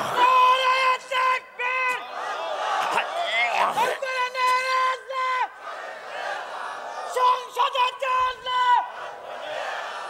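A large crowd at an open-air Islamic waz gathering on a field in Kotchandpur roars a chanted takbir in unison, loud, sustained shouted voices rising and falling in repeated waves over about ten seconds.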